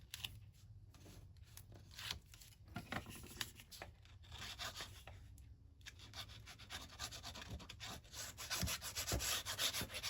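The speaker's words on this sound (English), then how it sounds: "And then burnish that down." Paper fold being burnished flat for a cookbook craft kit: quiet repeated rubbing and scraping strokes close by, soft and irregular, with no one speaking.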